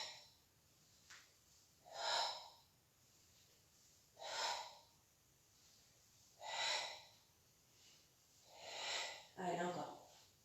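Slow, deep Pilates breaths are drawn in and pushed out close by, about five long airy swells spaced a couple of seconds apart, with quiet gaps between them.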